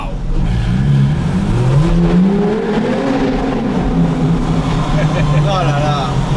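A Porsche 911 R fitted with a Sharkworks exhaust revs loudly and continuously, its engine note rising and falling through gears, echoing as if in a tunnel, with a voice talking over parts of it.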